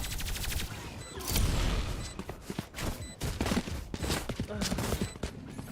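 Gunfire from a Valorant match rattles off in rapid bursts and single shots, with someone talking over the game.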